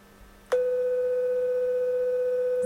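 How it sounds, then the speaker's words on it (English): A steady 500 Hz test tone played from an iPhone into a PA amplifier's microphone starts abruptly after a brief click and holds at a constant level over low background hum, with no talking. "I've got my iPhone playing tones into the microphone. So we'll start off with a 500 Hertz tone."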